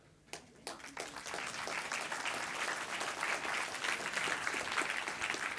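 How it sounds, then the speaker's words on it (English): An audience at a WordCamp Europe 2024 conference breaks into applause after a talk, opening with a few scattered claps that swell quickly into sustained, dense clapping from a sizeable crowd in a large hall. "please, another round of applause for Paul as well"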